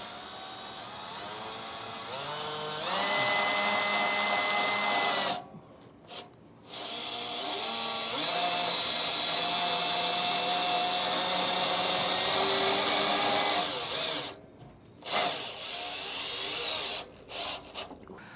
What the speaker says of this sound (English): So I'm going to do a pilot hole with a drill bit.